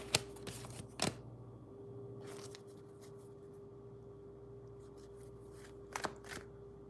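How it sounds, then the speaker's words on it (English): A deck of playing cards is shuffled in quiet bursts, a riffle at the start, another around the one-second mark and a couple more near the end, with soft handling noise between and no talking. "Oops, I'm shuffling wrong because I'm like, I was seeing something as I was trying to shuffle."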